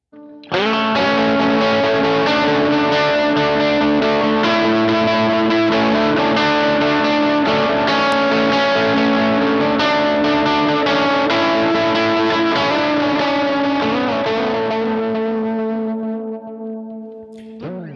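Heavily overdriven electric guitar through a Westminster Effects Geneva amp sim pedal, amp-style distortion with thick sustained chords and riffs, loud and continuous, fading out at the end.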